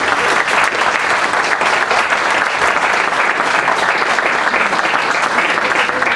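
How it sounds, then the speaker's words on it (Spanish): Loud, dense applause from an audience welcoming a guest speaker at a school science and humanities event, steady and unbroken throughout. "siguiente invitado es Horacio Flores Muñoz, para quien también pido un fuerte aplauso"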